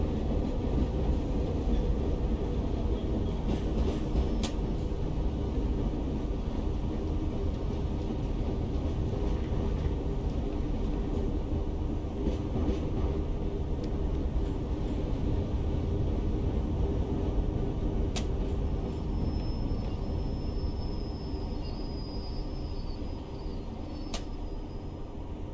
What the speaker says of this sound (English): The 72 stock obviously is the train that is still running in real life on the Bakerloo line.